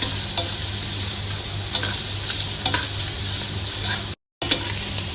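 Cooked rice being stirred and turned in a hot pan with soy sauce chicken, a steady sizzle and frying hiss with faint scraping and clinks, briefly cut to silence near the end.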